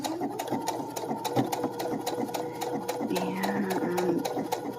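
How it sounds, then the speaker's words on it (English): Close, steady whirr of a sewing machine running a stretch stitch on a small spandex scrap, the needle ticking in a fast regular rhythm throughout, with a faint squeak partway through. "I'm going to demonstrate the stretch stitch just to kind of show you how it looks and goes"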